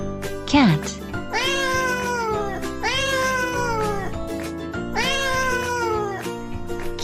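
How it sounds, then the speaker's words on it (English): Cartoon cat meowing in a children's animal sound sequence: three long drawn-out meows at an even pace, preceded by a short rising squeak, all over background music. "Cat."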